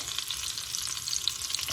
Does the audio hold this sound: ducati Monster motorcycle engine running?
no